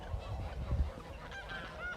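Geese honk close by in a short burst of several nasal calls, fairly quiet against low background rumble, with no one talking.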